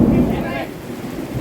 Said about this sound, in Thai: ฟ้าร้องพี่น้องนะครับ